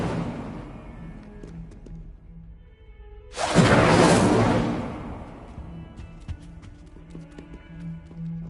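Incendio fire spell in a wizard game erupts as a sudden loud roaring whoosh of flame lasting about two seconds, then fades back into a quiet ambient hum with faint ticks.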